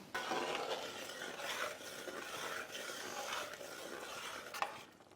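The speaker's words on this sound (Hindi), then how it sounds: "अब हमें चिकन को अच्छे से ग्रेवी में पकाना है और बीच बीच में हम चलाना ना भूलें।" Chicken simmers in a thick gravy for hotel-style chicken changezi while a spoon stirs it, giving a continuous soft scraping hiss with a brief clink near the end, quiet and steady with no talking.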